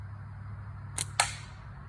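Two sharp cracks in quick succession from a thin slingshot shot, a soft snap followed by a louder metallic smack as the projectile strikes a can, outdoors against faint steady background hum.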